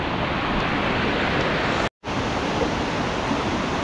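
A mountain stream in Tamhini Ghat rushes steadily, a dense, even wash of flowing water heard up close, broken by one brief silent gap midway.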